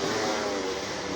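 A motorcycle engine drones steadily and loudly as it rides past on the road, a continuous mid-pitched roar with no voices over it.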